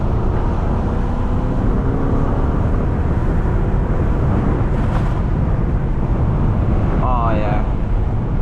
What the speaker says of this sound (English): You can hear that V8.